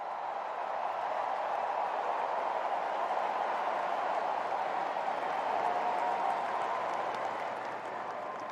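Spectators in Arthur Ashe Stadium at the US Open roar and applaud as Coco Gauff nears match point, a muffled, distant crowd din that stays steady and unbroken for several seconds.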